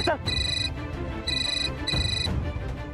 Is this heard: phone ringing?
yes